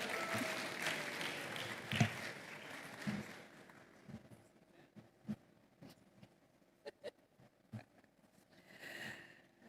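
At a hospitality summit, an audience applauds with dense, loud clapping for about three seconds, then the clapping thins into scattered individual claps that fade toward the end.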